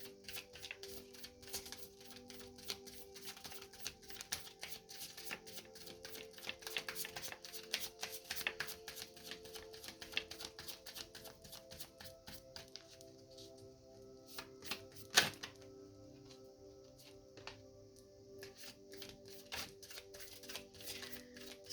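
Tarot cards being shuffled by hand, a soft close stream of rapid papery riffles and flicks that continues quietly for about twenty seconds, with one sharper snap near the end and no talking.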